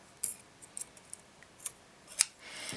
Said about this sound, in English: I'm going to carefully cut my threads off here